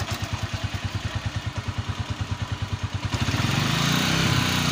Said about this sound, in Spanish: aquí voy a poner la moto en primera